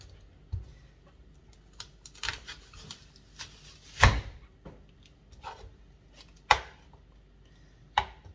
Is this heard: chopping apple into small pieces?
yes